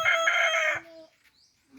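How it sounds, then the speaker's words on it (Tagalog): A single rooster crow, loud and harmonically rich, ending abruptly and leaving a brief, quiet tail of faint background sounds; a labuyo (red junglefowl) rooster. "Napakalayo lang tilaok ng ating pangati"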